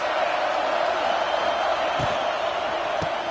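Broad, steady roar of a stadium crowd at a college football game between Mississippi State and South Carolina, a constant wash of noise with a couple of faint thumps, no speech over it.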